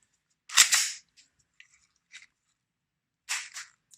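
An H&K USP 4.5mm CO2 BB air pistol gives a sharp, close snap with a short rattle, a few faint clicks, then a second sharp pop near the end.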